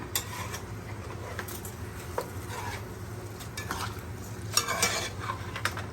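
Rice for beer chicken, arroz con pollo with olive salad, is stirred in a pot, a soft continuous sizzle under irregular scraping and clinking of a spoon against the pot, close and moderately loud without speech.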